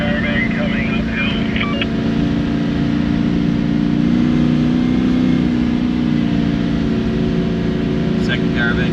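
A steady, heavy 4WD engine drone holds constant revs in second gear low range while towing a caravan uphill on an offroad track, with a low rumble and wind noise up close.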